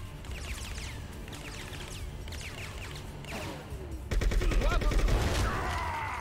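Gunfire from the Bad Boys: Miami Takedown video game: dense, rapid bursts of shots crackle continuously, swelling into a louder, heavier volley near the end, with no talk over it.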